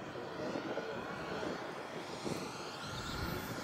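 A giant radio-controlled scale model of the A-10 Thunderbolt II Warthog jet, with two turbines, coming in to land, producing a loud, steady, broad jet-turbine roar that carries throughout.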